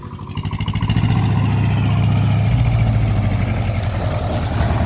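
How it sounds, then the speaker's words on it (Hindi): Swaraj tractor engine running, a loud, close diesel drone that swells in the first second and then holds at a steady throb, with no talk over it. "ट्रैक्टर आ रहा है बैठा हुए"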